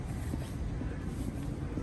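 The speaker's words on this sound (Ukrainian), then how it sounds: "у нас сьогодні так холодно, дує вітер такий." Constant wind rumbles and buffets outdoors on a cold day on a Canadian street, a low steady roar with no voices.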